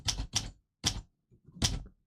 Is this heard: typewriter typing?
yes